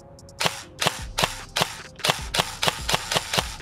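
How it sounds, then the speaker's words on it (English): Rapid shots from a G&G SRF 16 Enhanced Combat Machine airsoft electric gun firing BBs, about ten sharp cracks in quick bursts with a mechanical whir beneath, close and loud with no talking. "it does sound like a combat machine because it is using combat machine compression parts and gear sets"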